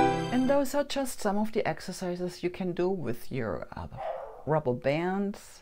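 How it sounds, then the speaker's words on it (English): A pet dog barks in the background, reacting to neighbors, mostly masked under a person talking close to the microphone during a home leg workout with rubber bands. "Sorry about my dog barking in the background."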